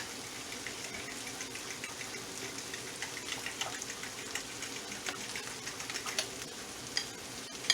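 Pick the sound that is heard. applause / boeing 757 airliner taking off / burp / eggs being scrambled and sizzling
eggs being scrambled and sizzling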